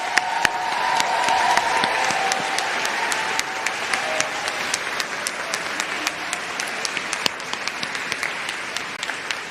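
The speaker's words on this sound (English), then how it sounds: "let's give a round of applause to our amazing faculty" A large audience at a commencement ceremony applauds the faculty with sustained, dense clapping that swells early and then thins into scattered claps.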